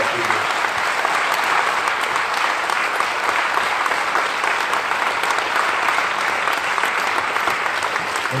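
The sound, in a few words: audience applauding Josette Audin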